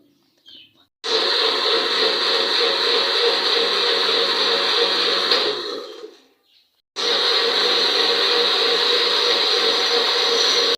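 Strawberry almond shake whirring in a kitchen blender, a steady loud motor drone in two bursts, running about five seconds, stopping briefly with a short wind-down, then starting again and running to the end.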